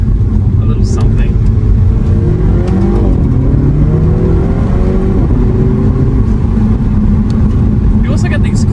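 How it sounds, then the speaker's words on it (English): A 2016 Mini Cooper S with the JCW package revs its engine in sport mode, the steady mid-pitched drone rising and swelling with throttle, with turbo flutter from the blow-off. "You also get these cool little flutter noises from the turbo."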